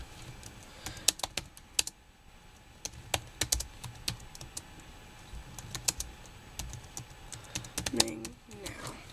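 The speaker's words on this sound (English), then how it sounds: "I'm just typing something to one of my friends on the server" Quick bursts of clicking on a computer keyboard, typing a chat message on a Minecraft server, with irregular keystroke rhythm, close and moderately loud, and faint speech-like sounds in the background.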